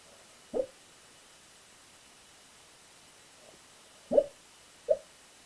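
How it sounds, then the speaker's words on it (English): A few soft, brief whimpers or muffled yips from a sleeping dog, one early and two close together near the end, over quiet background hiss. "that noise is my dog just having a dream down by my feet here"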